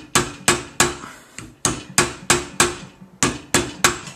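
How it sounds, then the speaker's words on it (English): A soft-faced nylon hammer strikes an annealed silver ring blank on a steel mandrel in a steady series of about a dozen sharp, close taps, roughly two per second, with no talk. "we're going to start by placing it on the ring mandrel, hammer it around to start to get a curve"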